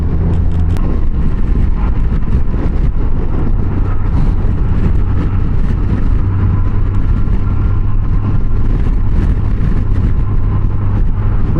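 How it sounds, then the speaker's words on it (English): Steady, loud wind roar buffets a rider on a motorcycle fitted with a seat cushion, with engine rumble underneath; the noise is constant and close for the whole stretch, with no talking. "get rid of some of that wind noise."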